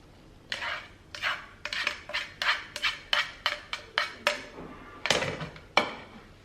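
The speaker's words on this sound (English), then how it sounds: "Now mix it very nicely." Spoon clinking and scraping in a pan while chopped onion, green chilies, ginger and garlic are mixed with masala and a little mustard oil for a pork fry; a quick series of close, sharp metallic knocks, about a dozen in a row.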